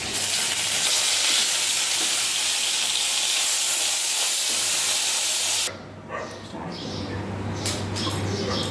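Panch phoron, a dried chilli and chopped onion drop into hot oil in a pan, giving a loud, steady hiss that suddenly softens into a lighter, crackling sizzle.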